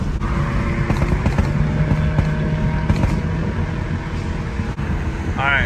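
A BMW F30 runs a hard pull, its engine droning loudly and continuously with heavy wind and road rush and a few brief clicks along the way.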